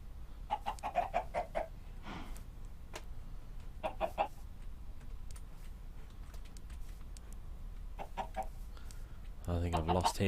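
Minecraft chickens cluck in short, repeated bursts of several clucks at a time, fairly close and moderately loud, spaced across the scene over a low background hum, ending with a brief louder burst.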